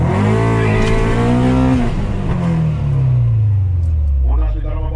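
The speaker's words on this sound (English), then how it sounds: "Honda se daar 'n baie kenmerkende klank" A Honda Civic with a B20 VTEC engine revs hard in a drag race, its pitch climbing and then dropping through gear changes. The engine is loud and close, with voices talking over it.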